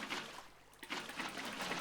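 Water pours from placed buckets in Minecraft (Java Edition) and flows across blocks toward the middle, a steady close splashing trickle with a brief dip partway through, no voices.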